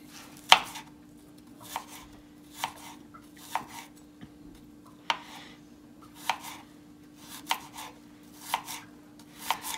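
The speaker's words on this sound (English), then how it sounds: "and now I'm going to finely chop it." A knife finely chops peeled ginger on a board, giving crisp, close taps in an uneven rhythm of single chops and quick pairs over a quiet background with a faint hum.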